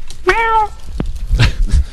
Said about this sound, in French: Oui, toujours le chat, voilà, super.